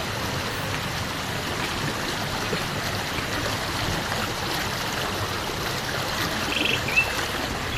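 Water from a mountain stream flows with a steady, even rushing hiss, with faint bird chirps now and then in the background.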